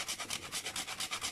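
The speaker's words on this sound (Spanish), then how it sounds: "Y la nuez moscada que la rayo en el momento." Whole nutmeg grated fresh by hand while cooking pastela, a rapid rhythmic rasping of about a dozen even back-and-forth strokes, close and moderately loud with no talking.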